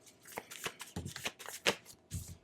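Tarot cards shuffled rapidly by hand in a run of crisp riffling bursts with short pauses between them, close and fairly loud, with no talking.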